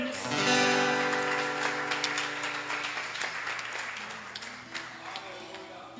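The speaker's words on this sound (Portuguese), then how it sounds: "Aplauda o Senhor Jesus." A church congregation at a Brazilian family service applauds as a sung hymn's final chord rings out, the clapping swelling and then thinning while voices call out.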